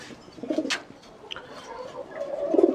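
Pigeons in a loft, soft low cooing calls in a few short bursts, fairly faint and close, with a brief higher chirp in between and no talk.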